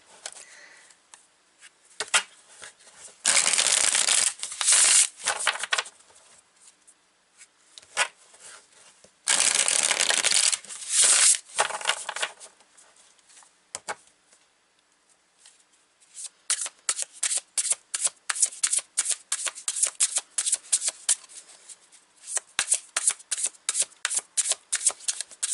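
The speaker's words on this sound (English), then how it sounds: "let's pull some cards for you today" Tarot cards shuffled close up, with two long riffling bursts followed by a run of rapid rhythmic card slaps and flicks, loud and crisp against near silence.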